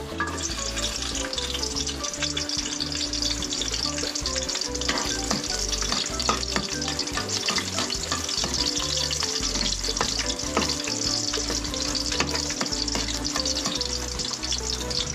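Garlic fries in hot oil in a pan, giving a loud, dense, continuous sizzle with crackling and some stirring scrapes. No voices are heard.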